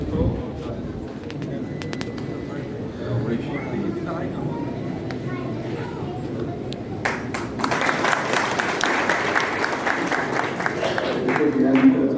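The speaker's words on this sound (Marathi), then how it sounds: "सर्वांना विनंती त्यांचं टाळ्या स्वागत करावं" Audience applause at a retirement ceremony held at the SKF company in Chinchwad, a dense clapping wash that swells in about halfway through and grows louder toward the end, with a voice speaking over the room before it.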